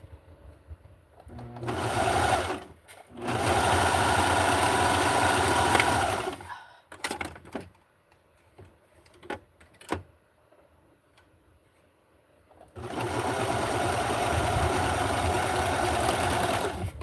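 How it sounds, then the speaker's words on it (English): A serger stitching a dress in vintage 1960s barkcloth fabric runs in fast, loud mechanical bursts. Two runs are separated by a short pause, then a quiet stretch of scattered clicks and handling, then a final long run. "Got the serger in."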